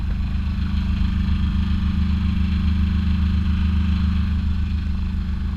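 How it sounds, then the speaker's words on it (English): Steady low engine drone of a sailing yacht motoring down a river near Harwich, continuous and fairly loud with no breaks, no voices over it. "Windfall's flying along under engine"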